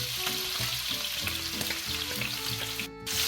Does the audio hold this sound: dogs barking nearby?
no